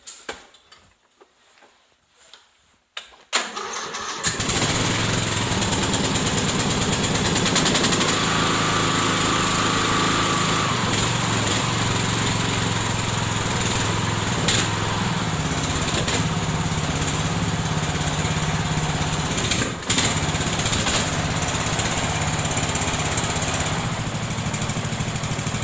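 A Craftsman LT1000 lawn tractor with a 42-inch snow plow starts at about minus 13 Celsius: a short cranking burst, then the small engine catches and runs loud and steady up close, no talk.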